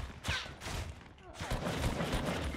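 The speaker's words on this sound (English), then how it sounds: "There's another dude shooting at me." Rapid bursts of gunfire from a Fortnite squads match crackle in quick volleys and echoes, fairly close and loud, running continuously with game noise underneath.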